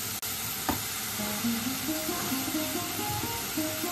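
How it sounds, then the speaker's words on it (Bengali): Ginger, garlic and green chilli paste frying in a pan, a faint steady sizzle and hiss running throughout, with soft stirring sounds and a few light clinks. "মশলাটাকে কিন্তু ভালো করে কষাতে হবে।"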